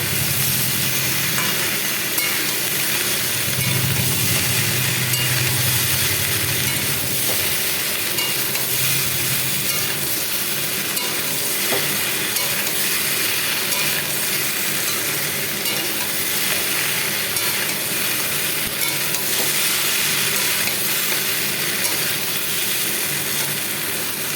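Vegetables being stirred and fried in a pan for a pumpkin-leaf dish, with a steady sizzle and frequent scraping and clatter of the utensil that run on without pause and without any voice.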